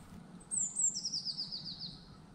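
Goldcrest, Europe's smallest bird, giving a quick series of very high, thin, sibilant call notes in a forest, moderately close over a low rumbling background.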